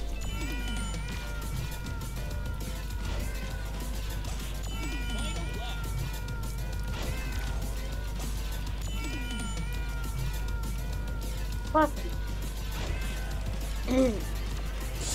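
Cartoonish cat meows from the Tower Unite video game's racing mode, several short mewing calls repeating across the stretch over steady game music and noise, with a louder burst near the end.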